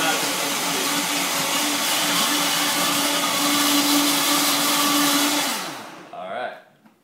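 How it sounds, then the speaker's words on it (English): A blender whirs loudly and steadily while mixing a green smoothie, then winds down and stops near the end, leaving a few faint clinks and handling sounds. "You don't want to blend it for too long, but you want to blend it just the right amount."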